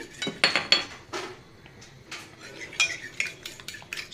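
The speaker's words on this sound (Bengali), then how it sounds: "কাঁটা চামচের সাহায্যে ফেটিয়ে নিচ্ছি।" Eggs, with a little sugar, are beaten with a fork in a bowl, giving quick bursts of metallic clinks and taps against the bowl, close and fairly loud, with brief pauses between strokes.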